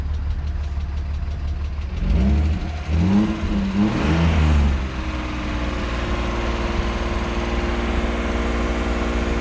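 A BMW 325i Coupé engine runs with a loud, rhythmic knocking that could be a tappet or the connecting rods, swelling briefly as it revs, then settling into a steady, rough idle.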